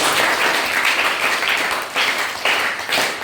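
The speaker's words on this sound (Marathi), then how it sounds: "3 टाळ्या वाजवूया त्याच्यासाठी." A classroom of schoolchildren claps together for a student, with dense overlapping applause in a few uneven bursts and swells, close and loud.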